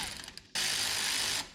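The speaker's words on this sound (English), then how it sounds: "Little pip pop, pop them loose. Oh, then tighten them back up." A ratchet works the brake caliper pins on a 2006 Chevrolet Silverado, first a few quick separate clicks, then one steady, loud stretch of rapid clicking, close up and with no voices.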